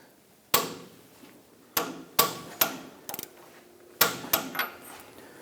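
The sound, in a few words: torque wrench tightening castle nut on Hummer H3 ball joint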